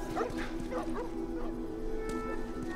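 Dogs bark and yip in The Last of Us Remastered on PS4, a quick series of sharp, fairly close barks with some whimpering over a steady low game hum, with no talking.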